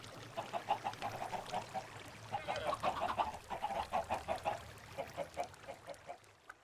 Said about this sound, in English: Chickens will give me stuff. Let me put some chickens down.